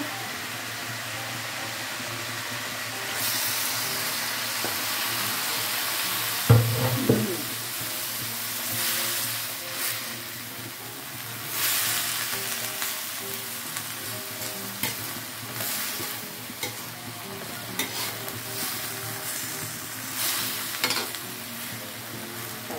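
Vegetables for a simple village-style dish frying in a pan after a splash of water is added, a loud continuous hiss and sizzle with a sharp burst partway through and occasional stirring clatter.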